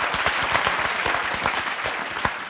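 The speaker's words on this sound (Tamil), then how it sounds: "ஒரு அரங்கம் நிறைந்த கைத்தட்டல் நம்ம கொடுத்துடலாம்." Dense audience applause fills a hall at a Tamil music tribute event, steady rapid clapping from many hands, loud and continuous throughout with no talk over it.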